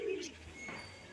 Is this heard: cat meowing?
no